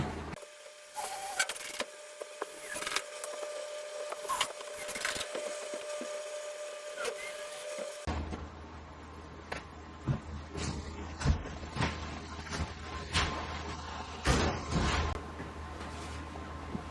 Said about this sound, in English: Now I'll put some screws in this thing to hold it in place and we'll be set.